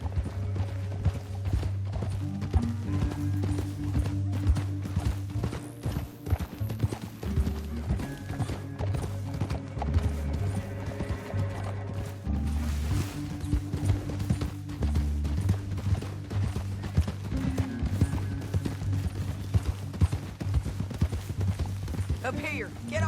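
Rhythmic clip-clop of horse hooves at a run in the video game Red Dead Redemption 2, continuous under dramatic music, with a horse whinnying now and then; game-like and steady throughout.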